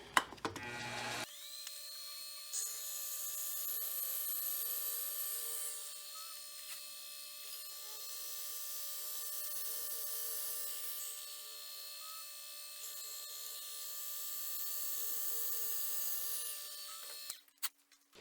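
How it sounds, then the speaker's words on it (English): A drill bores 1/8-inch pinholes through a steel sheepsfoot EDC knife blank, a steady high whine running for about fifteen seconds after a brief start, close and fairly quiet, ending with a few clunks. "when you drill these pinholes"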